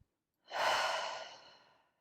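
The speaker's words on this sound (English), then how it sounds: "breathing in through your nose" One deep, loud exhale pushed out through the mouth during a mindfulness breathing exercise, rising quickly, then slowly tapering into a long breathy fade, alone and close.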